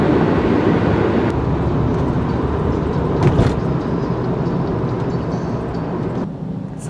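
A car drives along a road with a steady, loud rumble of engine and tire noise from inside the cabin, and no talk.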